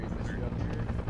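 A medevac helicopter lands in a video game, its rotor chop forming a loud, steady low thrum with voices likely over it.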